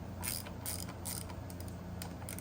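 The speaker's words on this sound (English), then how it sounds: "So now what I'm gonna do is loosen this mirror mount right here so we can get it the screws to take this off." Wrench ratcheting to loosen an 8mm bolt on a Honda Transalp motorcycle mirror mount, with a quick series of close, quiet clicking pawl strokes.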